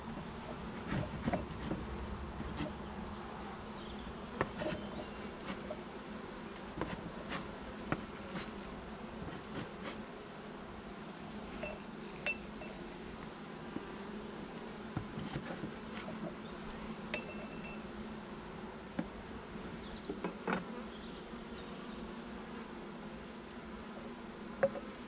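Honey bees drone steadily during a hive inspection, a close, even buzz with occasional small clinks and knocks from handling the hive.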